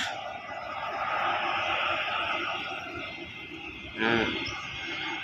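An AirAsia airplane passes over Heritage Park at Fort Bonifacio, a distant steady engine drone heard while a voice talks nearby.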